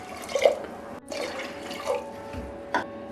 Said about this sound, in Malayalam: ആവശ്യത്തിന് വെള്ളം ഒഴിക്കാം.